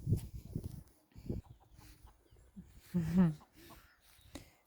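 Chickens cluck softly nearby in short bursts in a village yard, with one louder squawk in the middle and low background noise.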